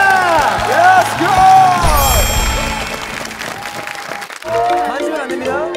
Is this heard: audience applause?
yes